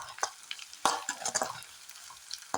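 A spoon stirs and scrapes in a pan while ingredients sauté for Tamil elephant yam (karunai kizhangu) curry, giving irregular close clinks and scrapes over a soft, steady sizzle, with no talking.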